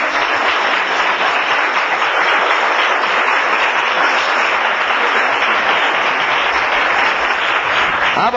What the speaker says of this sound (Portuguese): Olha, aplaudir.